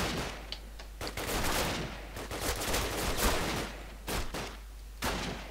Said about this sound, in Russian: Кто где стреляет, я понять не могу.